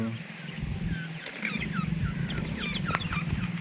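A cluster of quails calls in quick, chirpy bursts over a steady low rumble, the calls overlapping and fairly close.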